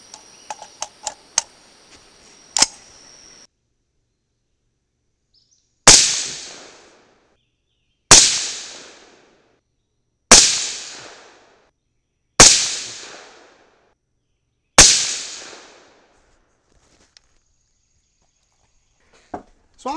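Five loud, evenly spaced 6.5 Grendel rifle shots firing 123-grain Sierra MatchKing bullets, each a sharp crack with a decaying tail, after a few faint clicks and ticks.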